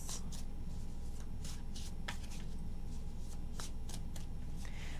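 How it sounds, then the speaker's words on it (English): Tarot cards being shuffled by hand, a series of quick crisp riffling bursts repeating irregularly, close and fairly quiet, with no speech. "3 shuffles."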